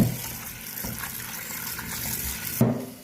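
Running tap water gushes steadily over sliced potatoes being rinsed for homemade French fries, a continuous splashing wash with a louder surge near the end.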